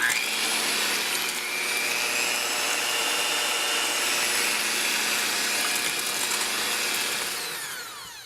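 An electric mixer beats four eggs into pumpkin muffin batter in a bowl, a steady, loud whirring drone that runs unbroken for several seconds before easing off at the end, with no talking.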